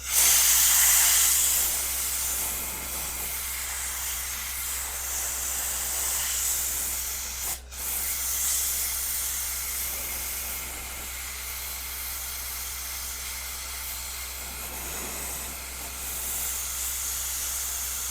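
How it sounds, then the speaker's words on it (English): Compressed air blows through a piece of American elm in a steady, close hiss that runs throughout, broken by one short sharp click partway through, with no talking. "So you can see right there on the wood, blow a little air through."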